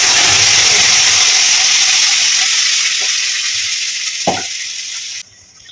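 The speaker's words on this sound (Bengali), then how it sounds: "রসুন কুচিটা ভাজা হয়ে গেছে, এবার চাটনিটা দিয়ে দেবো যেটা বেটে রেখেছি।" Ground chutney paste sizzles loudly in hot oil with fried chopped garlic, a steady close broadband hiss with a few spoon knocks near the end before it abruptly drops to a faint sizzle.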